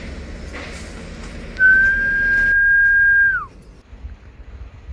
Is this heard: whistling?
yes